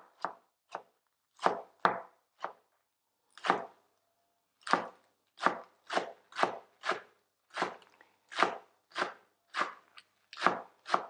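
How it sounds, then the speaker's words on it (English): Knife slicing vegetables thinly on a cutting board for a jacket potato and gravy recipe, a series of crisp, close chops in an uneven rhythm with short pauses, heard alone without talk. "Okay, so I'm going to keep with a nice thin slice there."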